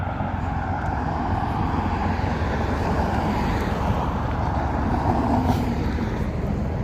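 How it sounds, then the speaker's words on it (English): A self-driving car passes along a busy Las Vegas street on a Friday night, a continuous broad road roar blending with surrounding traffic noise, with no voices. "There goes another self-driving car."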